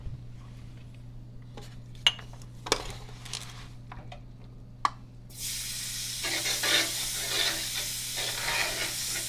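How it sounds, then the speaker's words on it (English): Chopped onion and garlic for a Gulf-style gumbo dropped into a hot pot and stirred, starting with a few clinks of a utensil on metal, then a steady loud sizzle with scraping stirs, over a low hum and no talking. "I'm going to stir the onion, the garlic, and all that for 10 minutes on low heat, on medium heat."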